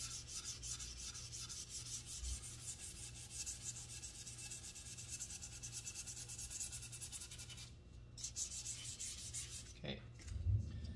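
Guitar wood being hand-sanded with 400 grit sandpaper, a continuous close rubbing hiss that stops briefly near the end before resuming, with no talking.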